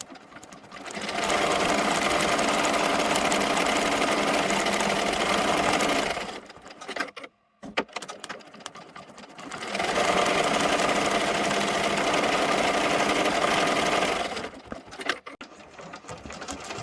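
Embroidery machine satin-stitching a Cocomelon design onto a T-shirt, a steady loud mechanical whir running in two long stretches separated by a brief pause.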